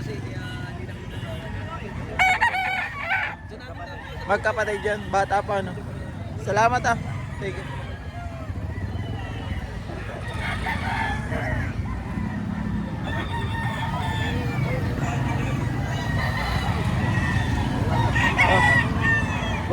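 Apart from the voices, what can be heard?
rooster crowing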